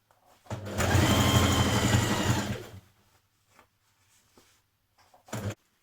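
A sewing machine runs one close, steady burst of about two seconds while stitching the side seams of a skirt at a 1.5 cm seam allowance. Near-silence follows, broken by a few faint handling clicks and one short final whir.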